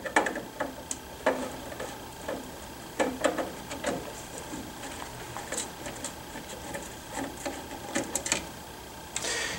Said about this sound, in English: We're going to remove six screws, 1, 2, 3, 4, 5, and 6.